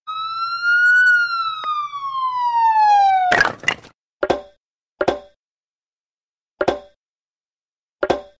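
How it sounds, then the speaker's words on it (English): Loud ambulance siren sweeping downward and fading, followed by a burst of noise and four short, sharp knocks spaced a second or so apart. "Ambulance."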